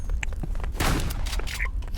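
Rapid bursts of gunfire from an online shooting video game crackle close and loud over roughly two seconds, with dense overlapping shots, booms and scattered footstep-like clicks.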